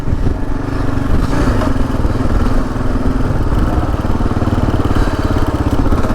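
A Gen 3 KLR motorcycle rides at full throttle through sand, its engine droning loud and steady throughout with a rattly clatter and no talking.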